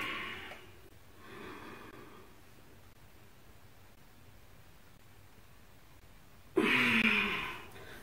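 Two soft exhalations during a yoga neck stretch early on, then a louder, sharper breath out near the end, set against quiet room hiss.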